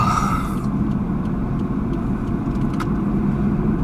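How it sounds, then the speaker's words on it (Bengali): Car driving along an empty road in Dhaka near Mintu Road, a steady low engine and tyre rumble heard from inside, continuous and fairly loud with a few faint clicks, no voices. "ফাঁকা রোডে পিওভি ড্রাইভ করছি"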